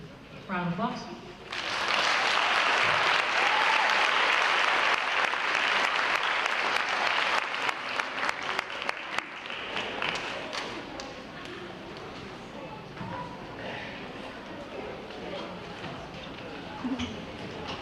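A class of fifth graders and families at a school moving-up ceremony break into applause after a short pause; loud, dense clapping swells quickly, holds for several seconds, then thins into scattered claps and murmuring voices.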